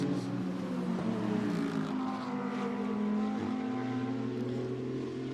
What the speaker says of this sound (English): as they accelerate their way up through the long right-hander of turn 12